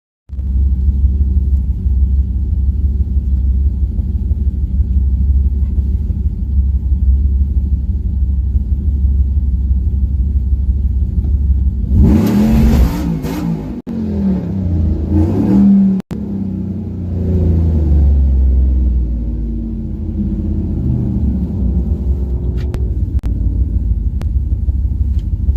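A supercharged Ram truck idles with a deep, heavy rumble before launching down a drag strip, a sudden loud roar and burst of noise, then a lower uneven rumble as the run fades.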